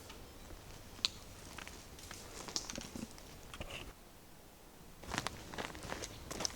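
Footsteps crunch along a path through an ancient forest, a steady series of close, crisp steps with a quieter pause midway before louder steps resume.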